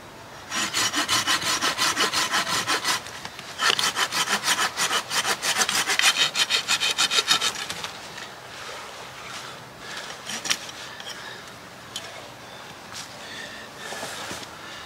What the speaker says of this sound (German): Den werde ich jetzt auf Länge sägen